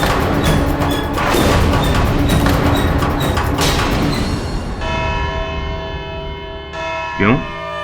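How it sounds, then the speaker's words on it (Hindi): A bell rings in a courtroom drama scene, a sustained ringing tone with layered overtones that follows a dense, loud stretch of dramatic sound, ending with a short rising sweep. "घंटी बज गई?"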